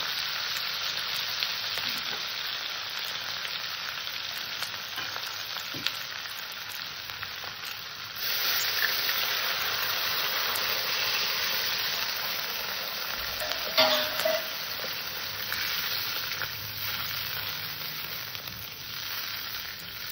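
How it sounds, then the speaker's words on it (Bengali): Water poured into well-fried spice paste for a katla fish curry with capsicum sets off continuous sizzling and bubbling in the pan, steady hiss that swells slightly partway through, with occasional stirring clinks and no talk. "আমার মশলাটা ভালো কষা হয়ে গেছে, আমি এখানে এবার জল দিয়ে দিই।"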